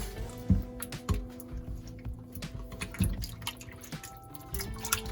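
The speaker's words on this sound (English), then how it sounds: "You're gonna use cold water, rinse again, pour that off." Cold water drips and splashes as oxtail is rinsed in a bowl and the water poured off, a series of faint close drips and soft liquid sloshes.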